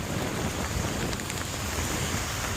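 A heavy rainstorm pours down during rush hour in Saigon, Vietnam, producing a dense, loud, continuous hiss of rain and splashing that fills the scene without pause.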